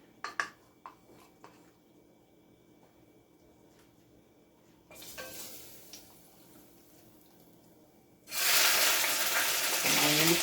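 Beef goes into hot oil in a pot on the stove, a few light clatters first, then a brief sizzle and finally a loud, steady, close frying hiss.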